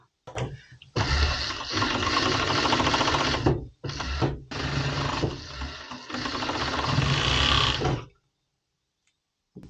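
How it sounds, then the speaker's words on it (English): Overlock sewing machine stitching fabric for a women's top, loud continuous whirring runs broken by a few brief stops, then falling silent near the end. "as the overlock normally has a differential transport"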